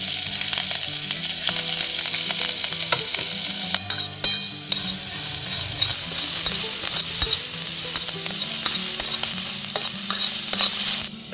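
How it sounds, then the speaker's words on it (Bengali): Onions fry and sizzle in a small amount of oil while being stirred, a steady close crackle broken by scraping and clinking from the spoon against the pan, with no talking. "জাস্ট এগুলো একটুখানি নাড়াচাড়া করে নেব।"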